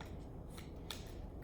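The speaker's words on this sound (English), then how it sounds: "so we're gonna take our scissors" Scissors snip through paper to cut out circles during a library youth craft session, with a few quiet separate cuts over a soft room hush.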